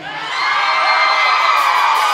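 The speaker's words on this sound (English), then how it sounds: "I feel like we have a very lively crowd this evening." A lively evening concert crowd at a live country show cheers, whoops and shouts in a dense, loud, sustained roar that swells in the first half second and then holds steady, with no talking over it.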